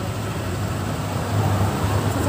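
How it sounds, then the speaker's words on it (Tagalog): Steady road traffic with a vehicle passing close by, a continuous engine and tire rumble that swells slightly toward the end, heard from a Honda Click 125 scooter ride. "Oh, sasakyan."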